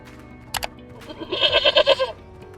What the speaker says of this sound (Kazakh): ешкі